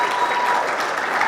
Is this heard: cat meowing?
no